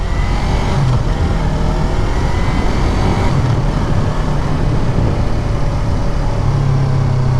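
A 2019 Yamaha R3 motorcycle riding through a right turn on a wet road, loud steady engine drone with heavy wind buffeting and road roar, close and continuous.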